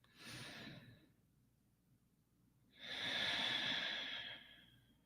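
Slow diaphragmatic breathing during a meditation, a soft inhale followed after a pause by a longer, louder breathy exhale, close and alone with no talk.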